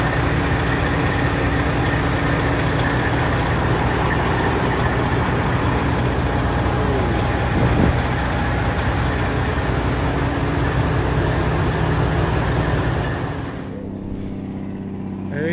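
Air Force–liveried cabover truck cruising down the road, a continuous loud engine and road rumble heard from inside the cab that drops off and thins near the end.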